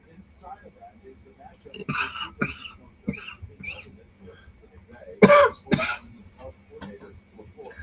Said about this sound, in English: Sorry about my coughing.